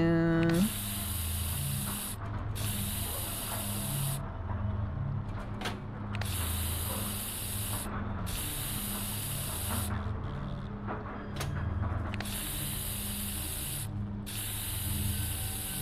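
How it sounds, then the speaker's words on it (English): Rainbow juice sprayed onto plants in the Nancy Drew game Creature of Kapu Cave, a series of repeated hissing spray bursts with clicking mechanical sounds under a looping background tune. "And just spraying the rainbow on these guys."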